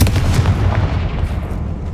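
A Confringo spell blast in the Hogwarts Legacy video game lands as a loud, close explosive boom, then trails off into a low, rumbling decay over about two seconds, with no talk over it.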